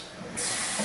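Running water hisses steadily over a butchered chicken at the sink, a short, close rush that swells louder partway through, with no talking.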